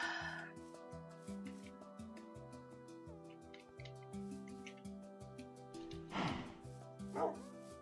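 Minecraft dog barks a few times over steady game background music, with short yips standing out near the end.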